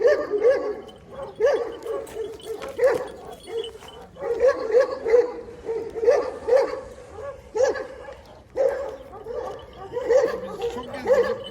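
An Anatolian shepherd Sivas Kangal dog barks in a steady series of deep, rhythmic woofs repeated every second or so, fairly close, with some whimpering yips mixed in.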